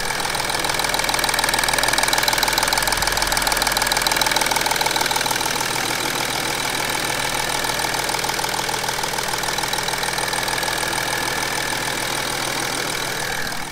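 An Audi 3.0 TDI diesel engine, just repaired, idles steadily up close with an even, slightly knocking mechanical clatter that holds throughout, with no voices.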